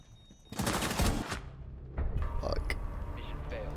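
Rapid pistol gunfire in a shooter video game, a dense burst of shots from about half a second to one and a half seconds, then further scattered game sounds at moderate loudness.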